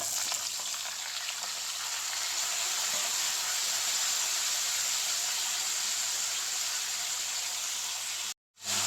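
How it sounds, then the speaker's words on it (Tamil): Sliced drumstick and onion sauté in hot oil in a pan, giving a steady, close sizzle and crackle that runs unbroken with no voices, then cuts off abruptly just before the end. "முருங்கைக்காயும் வெங்காயமும் எண்ணெயில் கொஞ்சம் இப்படி வதக்கி விடணும்"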